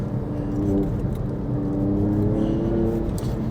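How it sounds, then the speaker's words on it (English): A Porsche 911 997 Carrera 2S with a light flywheel holds a steady, loud engine drone close by, with a slight rise in pitch near the middle and no talking. "See that light and flywheel? Easier to blip on the throttle."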